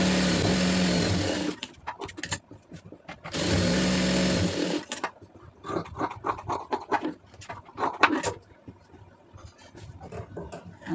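A sewing machine stitches a folded round neckline in two fast, steady whirring runs of about one and a half seconds each, followed by lighter clicks and handling noises nearby.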